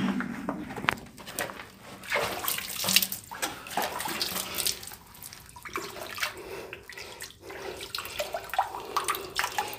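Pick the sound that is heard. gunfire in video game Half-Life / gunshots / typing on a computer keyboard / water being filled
water being filled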